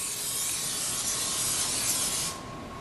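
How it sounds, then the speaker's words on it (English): Cooking spray is sprayed onto a frying pan between batches of schnitzel cutlets, giving one steady, close, airy hiss that lasts about two seconds before cutting off. "We're going to respray our pan."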